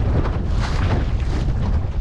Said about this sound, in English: And we have definitely picked up some gusts now.